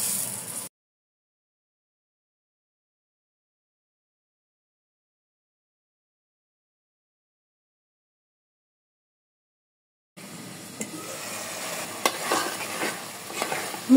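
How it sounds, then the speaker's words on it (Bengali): Mung dal stirred and fried with spices in a pan, an audible sizzle with scraping stirs coming in only near the end after a long stretch of silence. "মুগ ডালটা একটু মশলার সাথে কষায় নিলাম"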